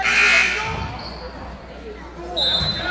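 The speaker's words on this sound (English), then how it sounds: "Set the buzzer off right as he was trying to shoot." A basketball game buzzer sounds during a free throw at a boys' basketball game, with a tonal electronic blare at the start and again near the end, heard over crowd noise and people talking.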